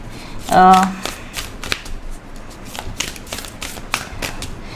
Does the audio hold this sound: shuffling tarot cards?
yes